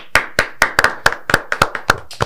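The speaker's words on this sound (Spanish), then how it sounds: "Aplausos." About ten crisp, evenly spaced hand claps ring out near and clear, welcoming a former health minister as a guest on an interview programme.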